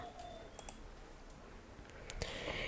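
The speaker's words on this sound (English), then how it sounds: "So here you have to click on Upload Media" Faint computer mouse clicks, a few sharp isolated taps at low volume with little else around them.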